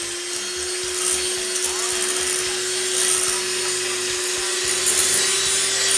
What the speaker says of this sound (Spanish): Lo primero que voy a hacer va a ser poner huevos y azúcar y vamos a batir.